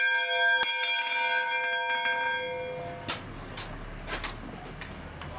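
Church bells ring out in the town of São João, a few bright, resonant strikes that hang and fade, followed by softer distant clangs against light background noise.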